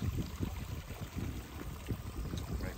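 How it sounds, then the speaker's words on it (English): A rock waterfall in a small garden splashes softly nearby, a low, gentle wash of falling water with faint irregular burbles and no voices. "rock waterfall."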